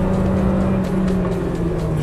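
Peugeot 106 Rallye 1.3 petrol engine, 100 hp in an 800 kg car, accelerating uphill out of a bend, heard from inside as a steady, loud, continuous engine drone with no talk over it.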